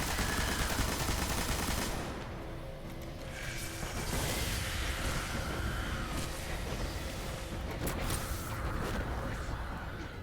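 Gunfire in the Destiny video game during a solo Nightfall strike, steady rattling shots and mechanical clatter running continuously under a dense, busy game soundscape.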